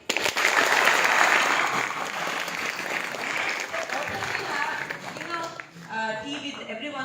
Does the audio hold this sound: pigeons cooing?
no